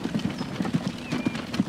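Animated horses' hooves in the train-and-transport game Transport Fever, a quick, light clip-clop patter of many small hoofbeats in an irregular running rhythm, fairly faint against a soft background.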